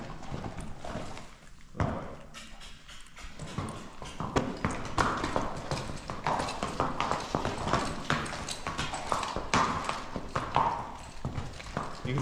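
Hooves of a Missouri Fox Trotter horse under a rider, a quick, even clip-clop of footfalls striking ground, close and steady throughout, with faint background voices at moments.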